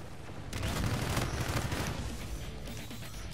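Shotgun fire during an online shooter match, with a burst of heavy blasts and booming impacts that swell loud for a couple of seconds, then ease into a lower rumble.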